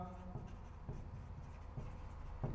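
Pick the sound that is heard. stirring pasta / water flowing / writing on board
writing on board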